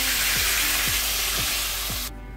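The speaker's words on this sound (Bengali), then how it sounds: "এবার দিয়ে দেবো জল" Water hits a pan of frying spiced elephant foot yam, a loud hissing sizzle with a few rhythmic scrapes, cutting off abruptly near the end.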